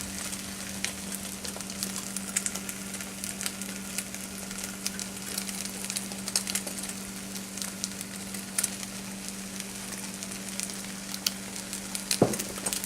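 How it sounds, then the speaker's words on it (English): Vegetables sizzle steadily in a hot omelette pan, a constant crackling fry with scattered sharp pops and occasional stirring scrapes, close and alone with a low steady hum beneath. "I'm going to add the vegetables"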